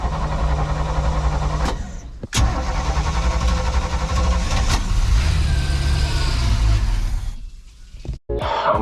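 A Sea Ray boat engine under restoration cranks, catches and runs at a steady rumble, cutting out briefly twice before ending in sudden quiet.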